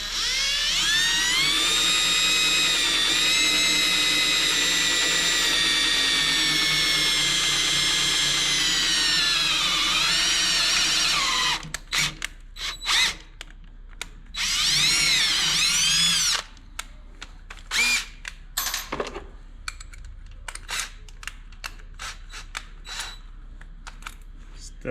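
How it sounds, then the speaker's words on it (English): Small drill bit boring into a motorcycle head pipe near the heat shield, a loud steady power-drill whine for about eleven seconds, then short intermittent bursts of drilling with brief pauses. "And I like to start with a smaller drill bit to step it."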